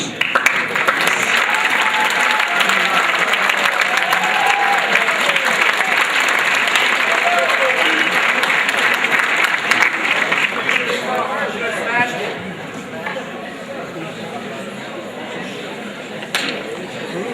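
A crowd applauds the governor at a school event. The clapping is loud and sustained, then thins and fades toward the end.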